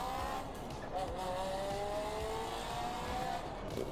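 Car engine in GTA San Andreas with a GTA 6 graphics mod, a steady game-engine drone with rising and falling revs and faint tire squeal, continuous and fairly loud throughout with no talk.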